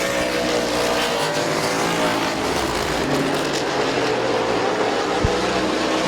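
Race cars roar around Midvale Speedway in a heat race, a dense, steady wall of engine noise from several cars with layered revving tones and no break, loud and close throughout.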